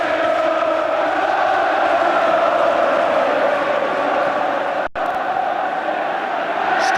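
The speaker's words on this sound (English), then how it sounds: "And listen now to the Old Trafford crowd." Old Trafford football crowd at a 1984-85 Manchester United versus Everton match, a loud, steady roar of many voices filling the stadium with no break in the din.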